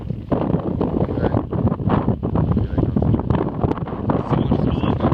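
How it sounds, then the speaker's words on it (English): Strong wind buffets the microphone outdoors during a survey measurement, a loud, continuous roar with gusty surges throughout. "it's pretty windy as you can see"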